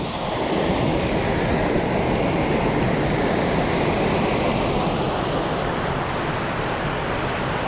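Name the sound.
water rushing through a flooded spillway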